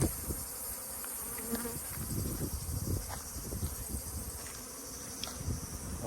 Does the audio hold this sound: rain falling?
no